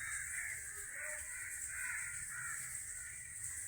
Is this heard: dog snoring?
no